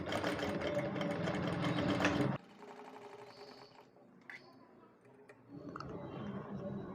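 A sewing machine stitches folded fabric for a frill frock, whirring loudly in a fast run that stops abruptly, leaving quiet clicks and handling noises before the motor starts again near the end.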